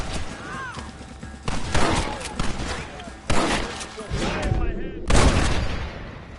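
Gunfire in a Red Dead Redemption shootout: bursts of rifle and pistol shots crack out in clusters, some loud and close, amid shouting voices and battle noise.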